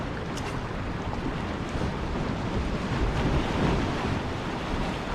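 Fast-moving tide and waves wash along a sea-bass fishing shore in a dense, steady roar, mixed with gusting wind buffeting the microphone and no voices.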